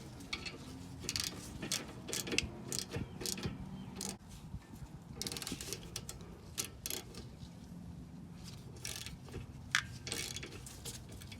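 Ratchet clicking quietly at close range while a 12mm brake caliper bolt is driven in on a 2001-2006 Acura MDX during rear brake work, with irregular ticks and small metallic knocks.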